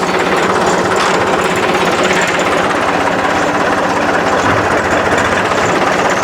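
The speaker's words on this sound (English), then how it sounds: "I'm gonna have to pull the tractor forward just a little bit, try to line all this back up." A John Deere tractor's engine runs steadily up close, a continuous loud rumble with a rough, knocking vibration throughout and no speech over it.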